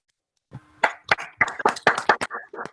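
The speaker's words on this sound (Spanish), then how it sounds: "les pido a los asistentes que abran su micrófono y les damos un aplauso" Scattered claps from a small online lecture audience after a physics talk on graphene, a dozen or so sharp separate hits over about two seconds, close and fairly loud with no talk over them.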